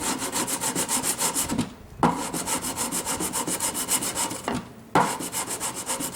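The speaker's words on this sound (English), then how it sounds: "So I'll just sand those up." Rhythmic back-and-forth sanding strokes rub along the wooden edges of a handmade pedal board box, steady and close, pausing briefly twice before resuming at the same pace.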